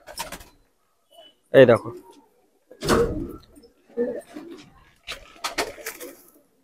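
Punjabi Malwai pigeons give short, low coos in scattered bursts, close by, between a man's brief speech and some handling noises.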